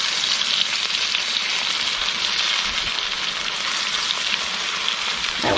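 Butter-fried chicken pieces sizzling loudly in a skillet as they are moved around the pan, a continuous close, crackling hiss with a brief clunk near the end, no talking.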